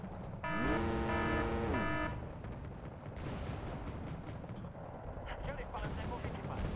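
Gunfire and explosions in the game Wargame: Red Dragon, opening with a loud tonal mechanical burst followed by scattered shots and rumbling battle noise.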